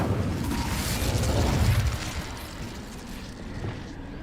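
A fire spell cast in the video game Hogwarts Legacy erupts as a loud, broad whooshing burst that swells for about two seconds and then fades into a lower rumbling tail, with no talk.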